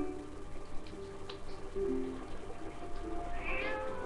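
A few soft cat meows in The Legend of Zelda: Twilight Princess while fishing, set against a steady ambient backdrop with faint watery trickling.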